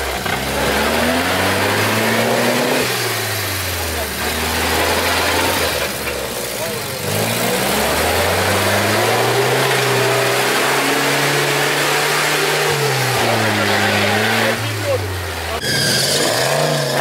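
UAZ and Lada Niva off-road cars driving through mud, engines droning and revving up and down in repeated surges, heard close with steady low rumble and people talking over it.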